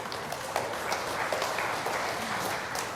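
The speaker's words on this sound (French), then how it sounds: "Applaudissez-le." A church congregation claps together during a Mass homily in a steady, dense patter, moderately loud, with a murmur of background noise and no clear speech.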